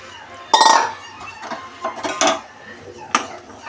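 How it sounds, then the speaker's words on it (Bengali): Tilapia pieces go into a pan of boiling curry, making a few clinking, clattering bursts of utensil against pan with soft bubbling between them, close and moderately loud. "এবার মাছগুলো দিলাম।"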